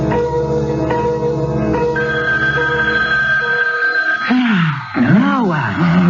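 An old telephone bell rings in repeated bursts at night in a quiet bedroom, loud and close, before voices take over near the end.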